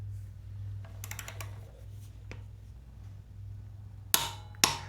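Torque wrench tightening frame slider bolts on a Yamaha MT07 motorcycle: faint ratcheting clicks and light metallic taps over a low hum, ending in two sharp, loud clicks as the wrench reaches torque.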